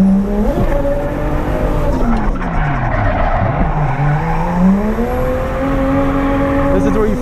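A Toyota JZX100 Cresta drifting hard, its engine note swooping up and down while the tires squeal loudly and continuously through the slide, close and dominating the scene.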